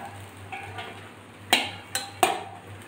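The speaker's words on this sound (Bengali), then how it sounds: "আমি একটা গামলিতে তুলে নিচ্ছি।" Cooked Maggi noodles with egg, onion, garlic and chopped green chilli being scooped from a pan into a bowl, heard as a few close metallic scrapes and clinks of utensil against cookware over a faint low hum.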